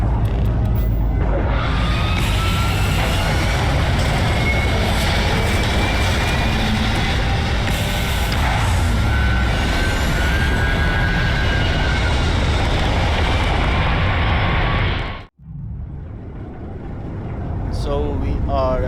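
A spaceship in the video game Starfield roars steadily in flight, a loud, continuous engine rush that holds for about fifteen seconds before cutting out abruptly, with a quieter hum returning afterwards.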